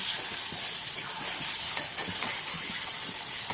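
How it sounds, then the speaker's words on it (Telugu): Ridge gourd chutney being stirred in a hot pan gives a steady close hiss and sizzle, with soft, irregular scraping strokes of the spoon running through it. "ఇప్పుడు పచ్చడి వేసేసి 1 నిమిషం పాటు బాగా కలుపుకోండి"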